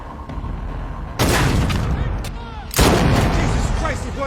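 Gunshots in a film scene, with two loud, booming bursts of gunfire crashing in close over a rumbling background.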